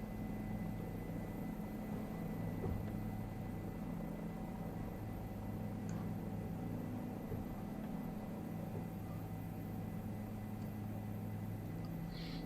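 A helicopter flies in a video game over Nubra Valley in Ladakh, its steady rotor and engine drone holding evenly at a constant level throughout, with no talk.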